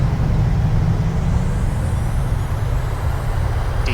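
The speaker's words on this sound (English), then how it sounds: "We're down. Reversers out." Thrust reversers of a PMDG 737-800 on landing in Microsoft Flight Simulator, a loud, steady low roar with broadband rushing noise, continuous and close.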